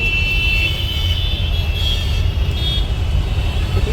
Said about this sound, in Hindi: और अभी है हम लोग ट्रैफिक में फंसे हुए।